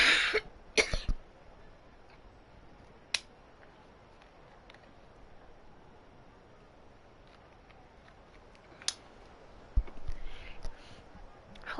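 A few short coughs and throat clearings from a person at a microphone, clustered at the start and again near the end, with quiet room tone in between.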